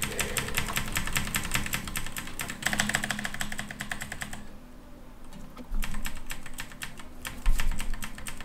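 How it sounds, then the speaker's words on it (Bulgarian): Rapid clicking and clacking on computer keyboards during a League of Legends–style online game, a dense, steady rattle of keystrokes close by with a brief lull in the middle before the typing picks up again. "Ай, кликайте клавиатурите, бе."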